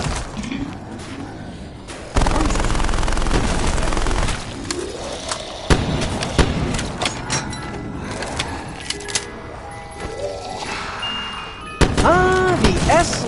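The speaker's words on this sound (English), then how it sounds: "Ah, the SMG. The quintessential lightweight chatterbox." Submachine gun fire in Call of Duty 4 Zombies, quick bursts of chattering shots mixed with game effects, impacts and clatter across a busy, loud scene.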